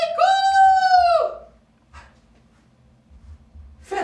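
A voice imitates a rooster's cock-a-doodle-doo during a children's stage performance about a little rooster: one long, loud, drawn-out crow, followed by quiet with a brief faint sound and a rustle at the end.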